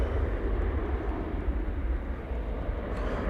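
An airliner taking off at Manchester Airport, lifting off early, gives a steady, loud engine roar with heavy low rumble that holds evenly throughout.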